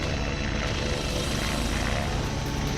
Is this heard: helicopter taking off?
yes